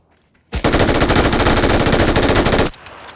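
Rapid automatic gunfire in a shooting video game: a loud, continuous burst of about two seconds, starting abruptly after a brief quiet lead-in and stopping sharply, followed by faint ambient noise.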